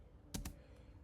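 A computer keyboard gets two quick, quiet keystrokes close together near the start, followed by faint room hush.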